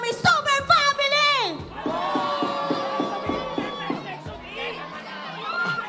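An esports arena crowd at an MPL Philippines Season 15 match cheers and chants in loud rhythmic bursts, with amplified voices and rising shouts over the steady roar of the audience.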